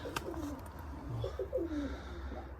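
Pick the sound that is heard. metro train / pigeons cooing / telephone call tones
pigeons cooing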